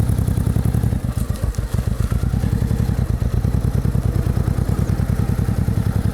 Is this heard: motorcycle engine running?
yes